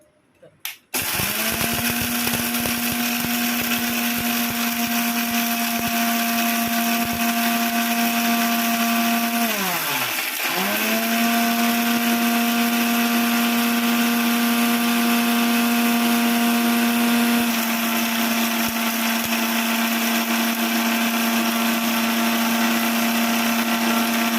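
An electric kitchen grinder whirs loudly while blending a homemade biryani spice mix, its steady motor drone dipping briefly midway as it stops and restarts, then running on continuously.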